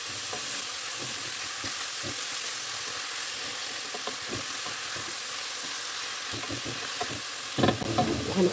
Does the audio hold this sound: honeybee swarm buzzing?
no